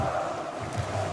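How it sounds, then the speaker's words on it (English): A huge esports arena crowd roars steadily after a final-round win at the Six Invitational 2024 final, W7M versus FaZe, with a dense, sustained cheer and no gaps. "The crowd, the loudest it has ever been."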